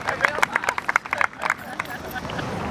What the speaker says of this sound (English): Big round of applause for my boss